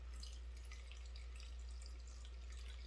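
Dry rice is poured and sifted into a bowl, giving a soft, steady granular hiss that runs unbroken for about three seconds. It is faint, with no talking.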